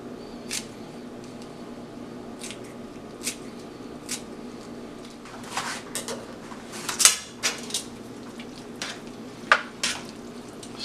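Chives being stirred through seafood alfredo in a pan, heard as sparse, soft clinks and scrapes of a utensil against the pan over a quiet kitchen background, with no talking.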